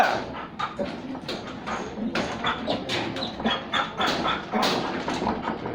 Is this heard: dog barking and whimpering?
yes